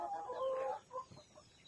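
Upgraded native chickens on a farm give a few short, close clucks and a soft squawk, quiet and brief.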